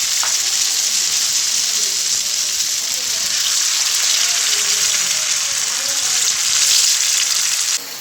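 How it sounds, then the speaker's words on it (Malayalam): Slices of breadfruit fry in hot oil with a steady, dense sizzle that holds loud and even from start to finish, no voices over it. "അപ്പം എണ്ണ ചൂടായി നമുക്ക് ഓരോന്ന് ഓരോന്നായിട്ട് ഇടാം"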